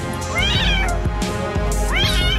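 A kitten stuck inside a washing machine cries loudly, giving two long, rising and falling meows close up against a steady background drone.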